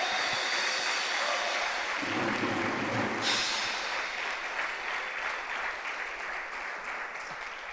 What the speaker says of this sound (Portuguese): Se for aplaudir, vamos aplaudir tudo junto para Jesus.